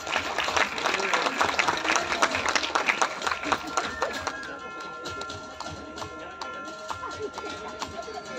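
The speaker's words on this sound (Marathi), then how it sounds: "आपण एकदा जोरदार टाळ्या वाजवूया" An audience applauds at an honouring ceremony for the head of a Konkan organisation and his mother. Brisk crowd clapping dominates the first half, then fades as a voice and a faint melodic tone carry on beneath.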